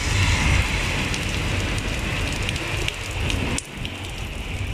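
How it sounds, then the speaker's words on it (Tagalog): Heavy rain pours down steadily in Abu Dhabi, a dense close hiss of drops on surfaces that drops slightly in level near the end. "Lakas yung patak ng ulan."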